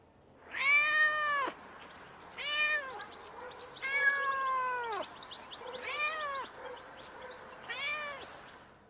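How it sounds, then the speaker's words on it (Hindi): A cat meows five or six times, each a drawn-out, wavering call separated by short pauses, clear and close against a quiet background. "यह बिल्ली की आवाज़ है।"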